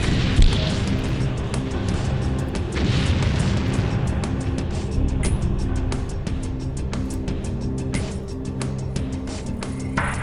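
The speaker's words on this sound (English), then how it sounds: "Let's just take some random shots at him across the map." Weapon fire in the X-COM Apocalypse video game, with shots taken across the map: dense, continuous booming blasts and bursts over a loud, steady background of game sound.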